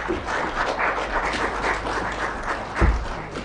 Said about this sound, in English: May we please have another round of applause?